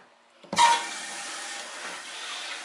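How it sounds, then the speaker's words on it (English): Water supply valve opened to a newly installed toilet, a sudden click and then a steady close hiss of water rushing into the tank that continues evenly. "Let's turn the water back on."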